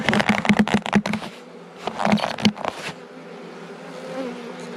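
Close, loud knocks and rustling as frames are handled in an opened hive of new honey bees, over a steady low buzz of bees that carries on alone at the end.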